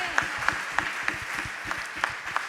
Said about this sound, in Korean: 우리 큰 박수로 우리 주님을 높여드립시다.